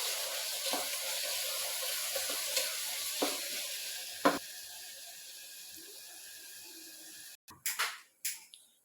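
Crushed unpeeled garlic and ginger sautéing in a pan, a soft steady sizzle with occasional spatula knocks, fading toward the end, followed by a few louder clattering bumps.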